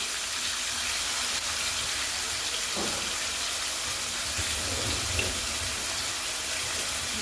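Chopped tomatoes with salt fry in hot oil with curry leaves, giving a soft, even, continuous sizzling hiss at moderate distance, without speech.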